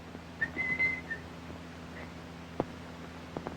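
A man whistles a few short, shrill notes in a quiet room in a 1940s detective film, the tones coming in a brief burst near the start and then giving way to faint ambient hum and a couple of soft clicks.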